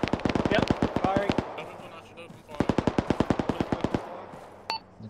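Enemy Humvees in a combat video game open up with rapid machine-gun bursts, two long loud strings of evenly spaced shots separated by a brief pause, with a voice speaking during the fire.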